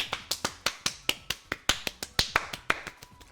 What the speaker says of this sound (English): I'm clapping for you, chat.